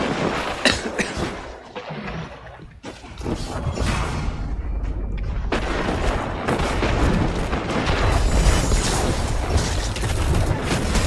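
Grenade blasts and gunfire during a Destiny 2 match, with repeated booms and crashing impacts coming in a chaotic stream, loud and close over several seconds.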